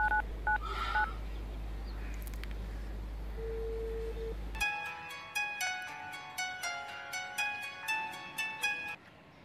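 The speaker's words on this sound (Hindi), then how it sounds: "ऐसा करते हैं, मेरे फोन से कॉल करते हैं।" A number is dialed on a mobile phone as a steady sequence of about a dozen distinct keypad tones, clear and close, after a stretch of low hum and faint beeps.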